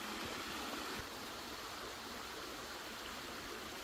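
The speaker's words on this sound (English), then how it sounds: "So this is the small waterfall." Small waterfall in Krantzkloof Nature Reserve, a steady, even rush of falling water heard as a broad hiss, constant and moderately faint, with no voices present.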